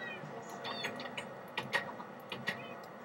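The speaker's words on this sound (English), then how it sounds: "and that's another one of my cats." A cat meows faintly a couple of times, short tonal calls rising over a quiet, slightly noisy background with a few small ticks.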